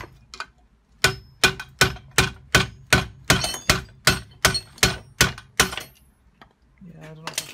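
A hammer strikes a rusty, stuck pillow block bearing on a shaft, giving about a dozen sharp metallic blows at a steady, even rhythm. A voice follows briefly after the blows stop.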